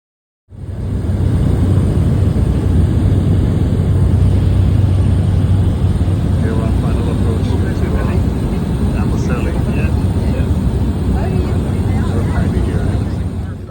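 A light Safari Link aircraft flying from Wilson Airport in Nairobi to the Amboseli airstrip in Kenya sends out a steady, loud engine and propeller drone that holds constant throughout after starting abruptly.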